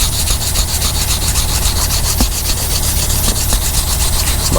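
80-grit sandpaper rubbing off guide coat on fiberglass door panels for a 1974 Chevy Caprice, a steady, close, rhythmic scratching with regular back-and-forth strokes and no speech.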